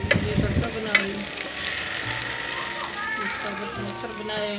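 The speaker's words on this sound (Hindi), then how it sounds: "ये तड़का बना रही हूँ" A tadka of hot oil and spices sizzles and fries in a pan for whole masoor dal, loud at the start with stirring clatter, then a steady crackle while someone talks over it.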